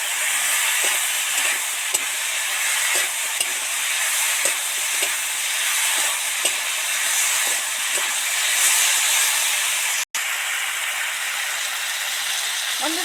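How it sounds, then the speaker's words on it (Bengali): A lit clay stove burning while spinach curry cooks, giving a continuous loud hissing roar that stays steady for the whole stretch, with faint ticks and crackles throughout. "উনুনটা এত সুন্দর জ্বলেছে, ওই জন্য চা চা চু চু করে সুন্দর আওয়াজ হচ্ছে।"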